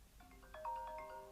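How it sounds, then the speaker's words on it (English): A phone rings faintly with a short electronic tone pattern that repeats a few times over quiet room tone. "Someone's actually ringing me now."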